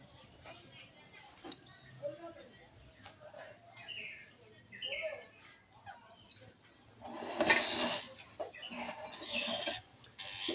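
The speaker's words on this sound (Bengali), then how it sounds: "মিঠু প্রচুর চিল্লাচ্ছে।" A pet bird in a home screeches loudly, with harsh, scattered calls that rise into a sustained burst midway, while people talk nearby.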